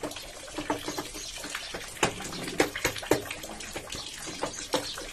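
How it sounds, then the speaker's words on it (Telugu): Rainwater drips and splashes irregularly close by during a drizzle, with scattered sharp drops over a constant wet background patter. "ముసురు మాత్రం బాగానే వస్తూనే ఉంది ఇక సౌండ్ వస్తుంది కదా ఇక నీళ్ళు దుంకుతూనే ఉన్నాయి"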